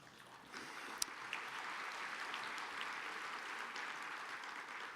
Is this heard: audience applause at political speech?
yes